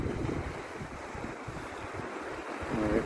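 Strong wind-driven sea waves washing around a floating pontoon bridge: continuous low surf rumble mixed with buffeting wind noise on the microphone, steady and moderately faint throughout.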